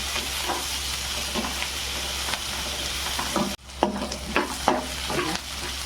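Garlic, chili and ginger frying with onions in a pan: a continuous sizzle with rhythmic stirring scrapes, steady at first, then, after a brief dropout, a series of louder spatula strokes.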